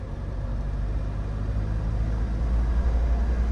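A manual-transmission driving-school car on a road-test course gives off a steady, loud, low engine rumble that sounds strained as the driver works the clutch and shifts up through the gears.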